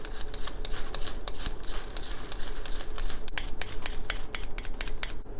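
A knife roll-cuts vegetables on a cutting board while Japanese beef golden curry is prepared, giving a steady run of quick, close, crisp chops over a low kitchen hum.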